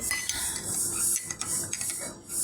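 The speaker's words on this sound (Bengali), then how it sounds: "চিনি দিয়ে ভালো করে নেড়ে চেড়ে নেব" A spoon stirs sugar into tea in a cup, a run of close, light scraping clinks and rubs repeating quickly over a couple of seconds.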